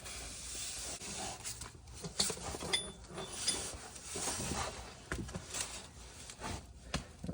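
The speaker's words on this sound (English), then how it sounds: "We are good to put this motor mount bolt back in." Ratchet threading a motor mount bolt on the front drive unit of a 2021 Tesla Model Y Long Range, giving faint, close, irregular clicks and metallic ticks in short bursts, with no talking.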